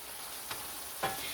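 Chopped medium onion fries in a pan with a steady close sizzle, and two brief scraping stirs from a utensil rise above it.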